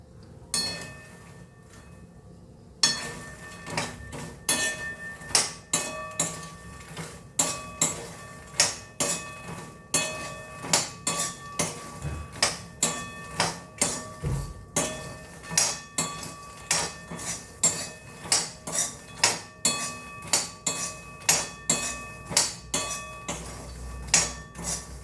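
Spiced masala stirred with makhana in a metal pan, a quick run of sharp rhythmic scrapes and clinks of a spoon against the pan, close and fairly steady, after a quiet opening few seconds.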